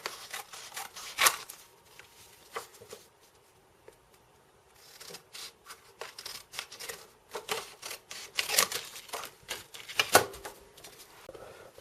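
Popsicle sticks for a model house wall are cut and snipped in irregular bursts of close, crisp wooden clicks, rubs and crunches, pausing briefly before picking up again.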